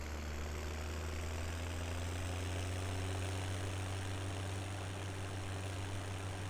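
Small tractor engine in Farming Simulator 17, running in third gear with a realistic gearbox: a steady, low, continuous drone with a deep rumbling hum, unchanging throughout and heard alone.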